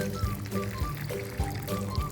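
Water poured into a toy cement mixer drum to mix plaster, a close, uneven splashing pour with a few pulses and faint voices in the background.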